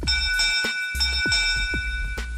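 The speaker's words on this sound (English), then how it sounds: "If you hear this bell during his story" A bright bell rings repeatedly in quick succession, close and loud, its sustained metallic tone lingering under each new strike.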